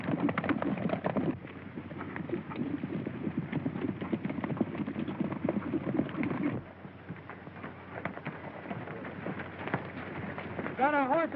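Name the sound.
horses clip-clopping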